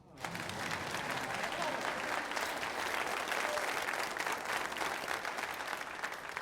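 An audience applauds steadily, a dense patter of many hands clapping at moderate, even loudness, rising quickly at the start and holding throughout with a faint crowd murmur beneath.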